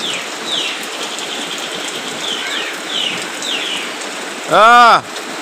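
Heavy morning rain falls steadily as a dense, even hiss, with faint bird chirps over it and a brief, loud tonal burst near the end.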